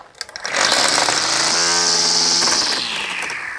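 A string trimmer loaded with stiff line revs up and runs steadily at high speed, its loud buzzing whine dominating throughout with a slight drop in pitch as the line digs in.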